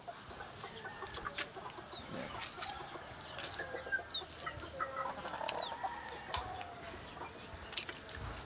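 Chickens and gamefowl cluck and call at a game farm, scattered near and far bird calls over steady outdoor background noise with no talk.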